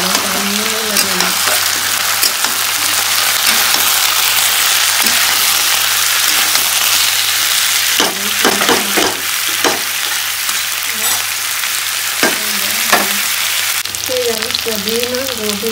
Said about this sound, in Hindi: अब हम कहते हैं गोभी को भी डाल के फ्राई करें।